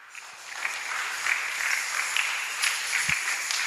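A congregation applauds at a Sunday gathering, the clapping rising from quiet to a steady, moderately loud patter with a few sharper accents, and no one speaking over it.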